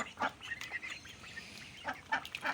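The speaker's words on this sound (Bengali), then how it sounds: "আমাদের অবশ্য এই কয়টা হাঁস আছে," Domestic ducks kept at a rural Bangladeshi home after rain give a few scattered nasal honking quacks, moderately near, with quiet pauses between calls.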